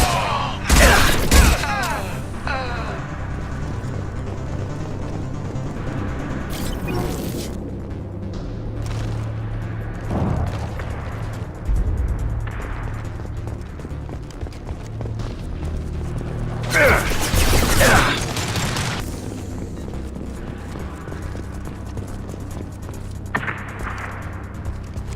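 Gunfire in the Mass Effect 2 video game, with sharp bursts of shots and booms near the start and again in the middle, set over a steady mechanical game soundscape while a voice talks.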